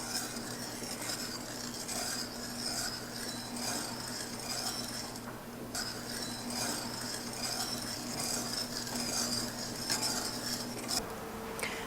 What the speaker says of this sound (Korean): 설탕이 냄비 바닥에 달라붙지 않도록 잘 저어주시면서 팔팔 끓이지는 않고 살짝 데운다 라는 느낌으로 끓여주시면 됩니다